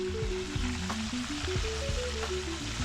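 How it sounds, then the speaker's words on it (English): Steady crackling sizzle of leatherjacket fish frying in a hot pan, with low tonal hum and occasional knocks underneath; no voices. "Let them sizzle away, see how it goes."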